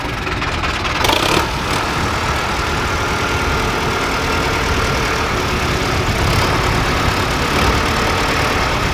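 A Sonalika 750 DI RX tractor engine runs steadily in a field after one tyre was sunk into the soil, a loud continuous low diesel rumble throughout with a brief rattle early on.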